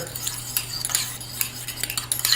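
A spoon mixes Thousand Island dressing of mayonnaise, ketchup, diced pickles and Worcestershire sauce in a bowl, producing quick, uneven clinks and scrapes close by with a faint steady hum underneath.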